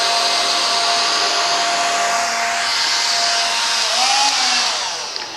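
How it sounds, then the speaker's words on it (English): A competitor's cordless vacuum cleaner makes one pass over flour spread on a black acrylic surface. Its motor roars loud and steady at close range, shifts pitch briefly near the end, then starts to fade. "So we're actually going to start with a competitor vacuum."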